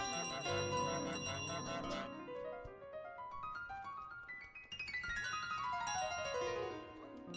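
Bell chimes from Untitled Goose Game, a stack of ringing tones rising and falling in pitch over several seconds, fairly loud with no talk over it.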